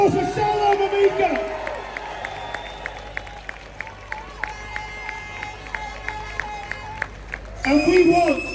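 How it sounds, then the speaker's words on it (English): Outdoor rally crowd at a street march claps and cheers, scattered sharp claps and shouts over a background of music and voices, with a louder swell of cheering near the end. "Let's have a massive round of applause for Salwan Mamika."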